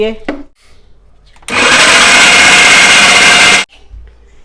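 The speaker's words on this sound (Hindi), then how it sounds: "इसको थोड़ा सा हल्के हाथों से ब्लेंड करते हैं" An electric chopper blends lentils and chicken mince for shami kabab, whirring loudly and steadily for about two seconds before cutting off sharply. Someone speaks briefly before the motor starts.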